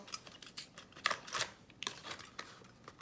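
Hand cutters snipping through plastic plant labels, a series of short, sharp clicks and snips at an uneven rhythm, close and fairly quiet with no talking.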